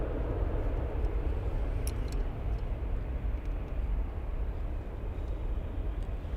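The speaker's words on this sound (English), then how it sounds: "Next one on short final, we have Aegean flying in from Athens" An Aegean airliner arriving from Athens lands at Munich, a steady low jet roar heard from a distance, continuous and fairly even in loudness.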